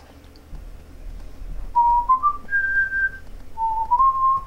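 A person whistles the Indiana Jones theme while playing Shadow of the Colossus. It comes as a few clear, melodic phrases of sustained notes over a low hum of game audio, with no talking.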